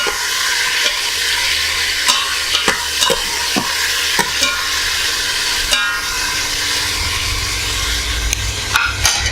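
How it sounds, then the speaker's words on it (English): Pieces of London broil beef tips sautéing in an Instant Pot give off a loud, close sizzle, broken by repeated scraping and stirring clacks, with no talking. "We're going to add it to the Instant Pot here, and what we're going to do is we're going to saute this all down real nicely."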